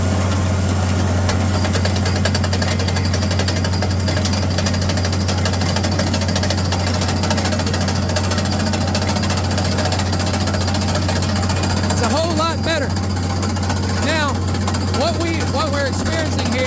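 A well drilling rig bores through black granite in an old well with lost circulation, giving a loud, continuous grinding and hammering drone with steady engine hum underneath, and a voice speaks over it toward the end.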